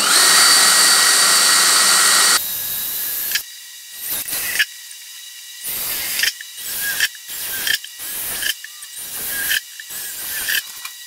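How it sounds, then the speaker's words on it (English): A power drill whines steadily, then cuts into repeated short bursts of drilling a large hole, separated by brief pauses, close and loud. "it makes drilling easier and it doesn't get so hot as you're trying to drill a larger hole"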